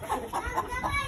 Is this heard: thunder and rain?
no